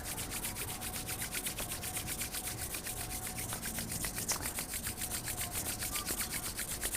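Palms rubbed briskly together during a yoga class, a continuous close, soft rhythmic swishing friction with no talk over it.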